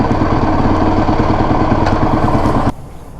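A supermoto motorcycle engine idles with no exhaust fitted, a loud, close, steady rough putter that cuts off abruptly near the end, with no talking.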